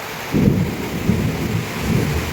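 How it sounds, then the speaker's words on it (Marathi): Steady rain hisses while low thunder rumbles roll through in a few swelling waves, fairly close and with no voices. "पाऊस लागतोय मित्रांनो."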